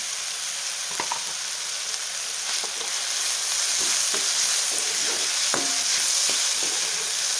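Tomatoes with a little salt sizzle steadily in hot tempering oil for chana masala, a continuous crackling hiss broken by occasional soft clicks of stirring, close and fairly loud.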